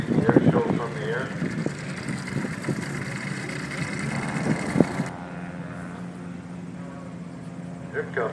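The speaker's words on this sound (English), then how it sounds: "Ultra Cruiser with a half Volkswagen engine." An ultralight Ultra Cruiser aircraft with a half Volkswagen engine drones at an air show, a thin buzzing hum beneath someone talking, the talk fading and leaving the engine tone more exposed.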